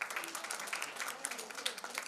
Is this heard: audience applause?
yes